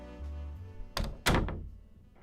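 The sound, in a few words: door opening and thudding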